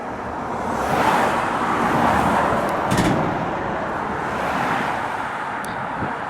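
A Fenland Haulage lorry from Wisbech passes on the A605, a broad rushing roar that swells near the first second and fades slowly under steady traffic and wind noise.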